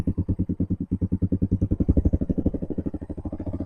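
An XPRO Titan 250 motorcycle engine fitted with a Nibbi racing carburetor idles close by, its low, rapid, even putter of firing pulses sagging and wavering slightly as the idle runs low.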